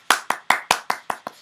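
A steady round of hand clapping: seven crisp, close claps spaced evenly about a fifth of a second apart, the last one lighter, with no voices.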